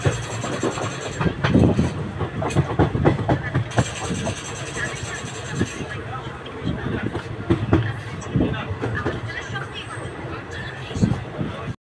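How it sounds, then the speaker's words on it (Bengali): Kanchanjungha Express (13173, Sabroom to NJP) rolling on rails and curving left into Kumedpur Junction, with steady wheel rumble and rattling carriages, sharp clacks at rail joints, and a hubbub of passenger voices throughout. "ট্রেনটা বাদিকে বেঁকে যাচ্ছে"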